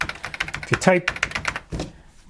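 Rapid, uneven keystrokes on an Atari ST computer keyboard, known for its mushy keys, clatter up close while a voice talks over part of the typing.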